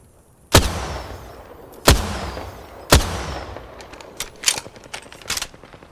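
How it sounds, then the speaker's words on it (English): Three loud, sharp shots ring out roughly a second apart in a video game, each trailing a short echo, followed by a quicker cluster of fainter, distant cracks. "They're shooting at me."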